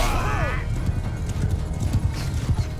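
Cavalry horses in the Mount & Blade Bannerlord video game: a horse whinnies, then dense galloping hoof clatter of many mounts continues steadily while a voice talks over it.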